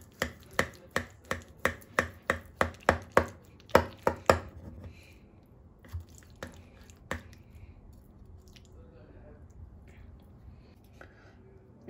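A knife chops eggplant on a board for a gratin, about a dozen sharp, evenly spaced cuts in quick succession, then a few scattered slower chops and soft handling sounds.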